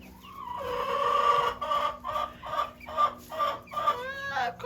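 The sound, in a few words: Barred Rock chickens clucking in barn pen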